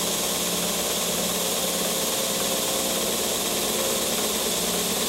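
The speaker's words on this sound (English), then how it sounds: "Now we're going to come over here and we're going to sand down to our line." A power sander works a wooden piece down to a marked line in a woodshop, giving a steady, loud, unbroken motor whir and abrasive hiss close by with no voices.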